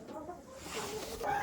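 Chickens clucking in a winter coop, a low murmur of several hens close by, with a brief louder call near the end; no talk.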